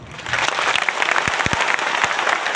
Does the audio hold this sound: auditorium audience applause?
yes